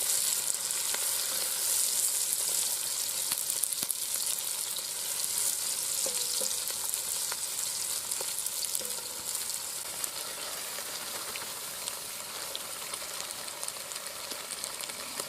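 Onions frying in oil in a 12-inch cast aluminium Dutch oven at an outdoor camp cookout, a steady close sizzle and crackle with no talking.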